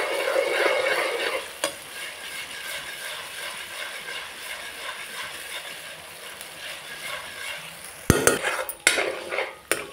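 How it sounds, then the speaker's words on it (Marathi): Ginger-garlic paste sautés in a pan for Malvani mutton curry, a soft steady sizzle with occasional scraping stirs, then a burst of clattering utensil knocks near the end; no talking. "आलं लसणाचा ना कच्चा वास जाईपर्यंत परतून घेऊया"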